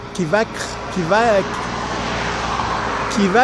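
Trucks move around a port container terminal at the east port on Réunion Island. A steady, broadband traffic rumble continues throughout, with someone talking over it in short bursts.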